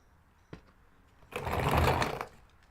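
Shop-style wet/dry vacuum with its filter removed, switching on after a brief click and roaring loudly for about a second before cutting off, with no talk over it.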